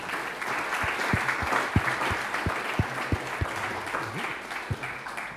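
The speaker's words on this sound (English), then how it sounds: "Please give a round of applause to all our speakers." Audience applause for the speakers at a panel on building a modern European Ukraine, a sustained patter of many hands with a few sharp, closer claps standing out, moderately loud throughout.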